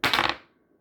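A die rolled during a tabletop card game: a brief, close clatter of three or four quick ticks that fades within a third of a second, heard alone.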